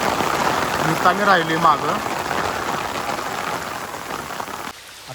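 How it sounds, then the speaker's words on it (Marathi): Steady rain falls in a dense hiss near an old wada, with a voice speaking briefly over it before it cuts quieter at the end. "इथं पाऊस अजून सुरूच आहे"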